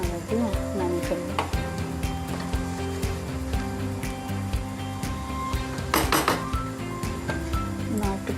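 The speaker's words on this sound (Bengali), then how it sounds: "আমি এটা একটু নাড়া দেবো" White polao in a cooking pot is stirred with a metal spoon, giving steady clinks and scrapes against the pot throughout. A louder clatter comes near the end, and a voice talks over parts of it.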